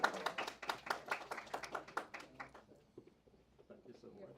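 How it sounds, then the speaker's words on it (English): Short burst of audience applause at an estate planning conference, a scattering of claps for about two seconds that quickly thins out and fades, with voices audible beneath. "Give him a round of applause."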